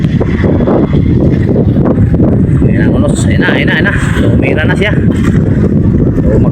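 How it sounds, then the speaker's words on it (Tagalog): Strong wind roars at sea around a small fishing boat out for tuna during a squall, a loud, constant low rumble and buffeting close to the microphone, with faint voices partly buried beneath it. "Bumakas na ang hangin guys,"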